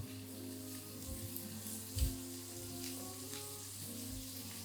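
Prawns sizzle in a frying pan during a chef's cooking demo, a steady close frying hiss with a few soft clunks from the pan, no talking over it.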